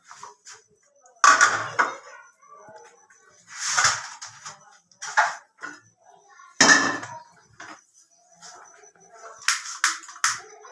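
A metal kadhai clanks onto a stove and ghee goes in, giving a few sharp, close clatters and scrapes of cookware separated by quiet gaps.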